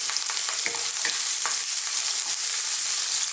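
Sliced onion and fresh curry leaves fry in a pan for a lamb chilli fry, a bright steady sizzle broken by a few stirring scrapes and clatters, close and loud with no voices.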